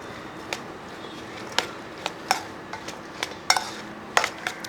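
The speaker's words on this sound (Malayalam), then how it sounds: "മഞ്ഞൾപ്പൊടിയും കൂടി ഇട്ടതിന് ശേഷം ഒന്ന് ഇളക്കി കൊടുക്കുക" A spoon stirs salt, turmeric and chili powder into a lemon pickle mixture, making a dozen sharp clinks and scrapes against the vessel at an irregular pace over a low, faint background hiss.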